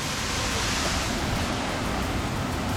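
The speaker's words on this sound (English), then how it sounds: "That's the waterfall." Waterfall roaring as a steady, dense broadband rush of falling water, continuous and fairly close, with no voices.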